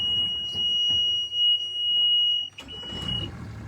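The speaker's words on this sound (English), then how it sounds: "We need to fix that alarm before next year." A boat's alarm beeps as a steady, high-pitched continuous tone running through the whole stretch, with bumps and thuds of movement on board underneath it.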